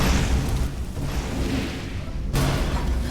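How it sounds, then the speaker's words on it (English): A fire bolt spell in Skyrim striking a dwarven spider makes a loud, sustained fiery roar and blast lasting about two seconds, followed by a second burst, with no talk over it. "Give it some fire bolts."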